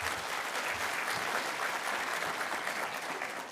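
A conference audience at the opening session of the Union World Conference on Lung Health gives sustained applause, an even, continuous wash of many hands clapping in a large hall.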